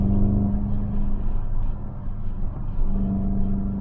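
A VW GTI on a race track at AMP gives a steady, loud engine drone with a deep rumble that holds and swells slightly, heard close as if from inside the car.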